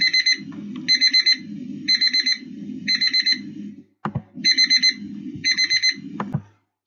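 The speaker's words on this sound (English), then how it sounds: "That was my timer." A timer alarm rings loudly in close, repeated groups of rapid beeps, pausing briefly midway before the pattern resumes.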